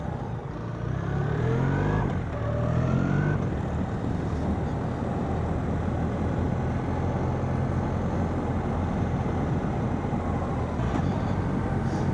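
A 2025 BMW R1300R boxer motorcycle cruises at a steady 30 mph on smooth tarmac, with a constant engine drone under heavy wind rush and a few brief gear-like shifts in pitch early on.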